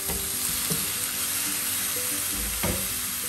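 Oxtails sizzle steadily as they braise in a hot pan, a continuous loud frying hiss with a few soft clunks of stirring or shifting meat, no voices.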